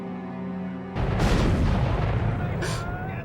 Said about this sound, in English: And that explosion.